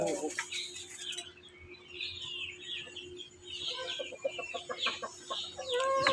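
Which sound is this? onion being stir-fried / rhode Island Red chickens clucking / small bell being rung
rhode Island Red chickens clucking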